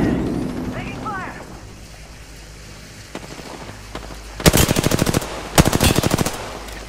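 Automatic gunfire in the battle royale game Apex Legends, two loud rapid bursts of shots near the end after a quieter stretch of game ambience and a voice.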